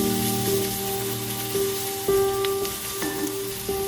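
Garlic and small shallots frying in a pan for a Kerala beef fry, a close, steady sizzle with light crackles, alongside a sustained tonal hum and occasional bright pings.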